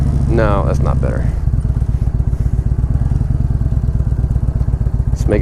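A Harley-Davidson Evo engine idles close by with a loose, uneven lumpy rhythm that runs through the whole clip, and someone talks over it at the start.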